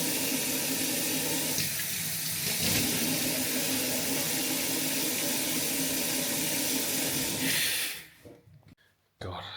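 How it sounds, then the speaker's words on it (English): Cold water runs hard from a tap into a sink, a constant close splashing hiss for several seconds before it is shut off abruptly. "I'm gonna splash some water on it. Nice cold water."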